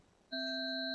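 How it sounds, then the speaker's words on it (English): An electronic buzzer marks the end of speaking time at a legislative committee hearing: a single loud, steady, harmonically rich tone that starts abruptly after quiet room noise and holds to the end, with no talk over it. "I hear the buzzer"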